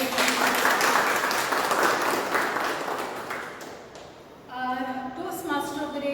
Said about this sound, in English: A big round of applause to our presiding officer